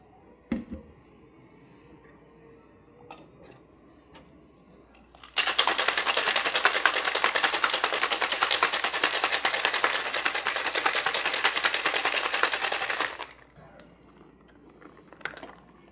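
A cocktail shaker packed with ice, cranberry juice, Crown Royal Apple whisky and maple syrup is shaken hard for about eight seconds, a dense steady rattle of ice against metal, loud and close, with brief clinks before and after.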